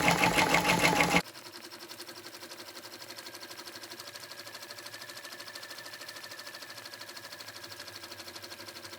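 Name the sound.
embroidery machine stitching a sweatshirt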